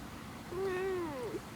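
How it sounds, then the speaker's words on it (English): A ragdoll cat lets out a single drawn-out, plaintive meow while being groomed with a deshedding brush, close and moderately loud, followed by a brief faint sound at the end. "Have you heard him meowing?"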